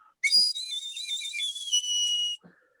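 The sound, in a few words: small bone flute being blown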